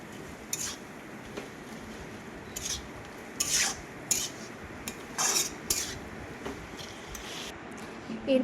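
A fried fish head is stirred with spices in a pan, giving close, repeated scraping and rubbing strokes of a utensil against the metal over a steady low background.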